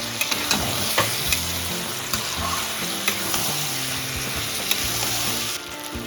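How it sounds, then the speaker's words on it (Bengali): Ginger paste frying in a pan as it gets stirred, a loud, dense, continuous sizzle with a few light scraping taps, close up and steady throughout, no talking. "আদা বাটাটা দিয়ে দিচ্ছি, একটু নেড়ে দেবো।"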